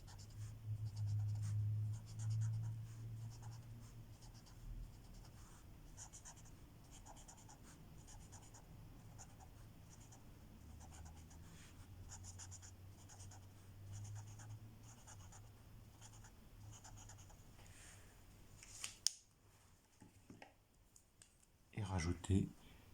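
A pen or pencil sketches scales and small relief strokes on turtle shells drawn on paper, a faint, close scratching of short strokes and taps, with a few louder clicks near the end.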